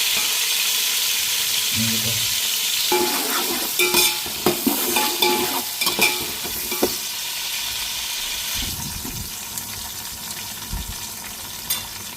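Four chopped onions drop into hot oil for a black trevally fish head curry, setting off a loud, close sizzle with stirring clatter and metallic scrapes against the pan, and brief bursts of louder spattering.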